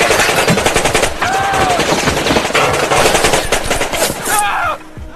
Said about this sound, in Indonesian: seorang penjaga menggunakan senjata amatiran, hingga peluru itu muncrat bebas